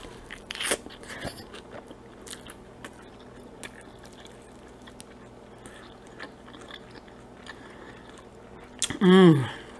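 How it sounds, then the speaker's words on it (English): Biting and chewing crunchy onion rings from TGI Fridays during a mukbang, soft close mouth crunches and smacks scattered across the clip, ending with a brief louder murmur-like vocal sound. "Got some onion rings on here."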